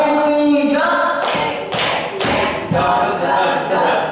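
A group claps together in a few sharp, loud bursts, spaced a beat apart, with faint voices around them.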